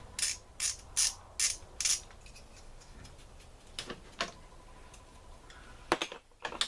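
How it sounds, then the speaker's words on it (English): Parts coming off an engine pipe assembly on a Honda Accord wagon: a quick series of five sharp ratchet-like clicks, then a few scattered metallic taps and clunks up close, with no talking. "Go ahead and take this annoying pipe assembly off if you want to."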